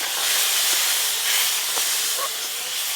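Milk poured into a pan of roasted semolina, bursting into a loud, continuous steamy hiss close by that holds steady throughout the short moment.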